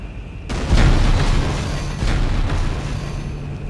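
A loud boom bursts in from silence in the 2008 sci-fi horror game Dead Space, then rolls on as a long, rumbling roar with crackling debris that slowly fades without dying away.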